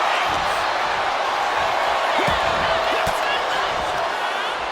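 A raucous arena crowd roars steadily at a WWE 2K25 wrestling match, a dense continuous wall of cheering with occasional thuds and a commentator's voice over it.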